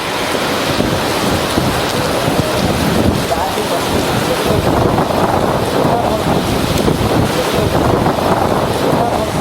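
Heavy rain pours down across Tamil Nadu, a dense, unbroken roar of falling water that stays loud and steady throughout.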